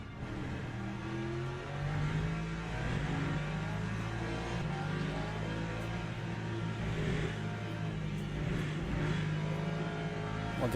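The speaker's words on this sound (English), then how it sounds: "Oh, that's a big batch of hypercars." Hypercars race in the Le Mans Ultimate sim at COTA during a 6-hour event, their engines droning and revving continuously with layered whining tones as a pack of cars runs close together, steady and loud throughout.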